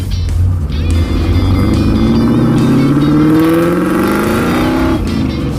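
A Pontiac Firebird V8 revs hard at about half throttle, its loud engine note climbing steadily in pitch over several seconds, close and continuous with no talking.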